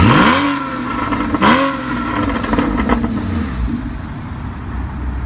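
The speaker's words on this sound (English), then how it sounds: "Maneuvering his car around." A supercar engine revs hard in short bursts while the car is being maneuvered, two sharp rising blips close by and then a settling idle rumble that fades.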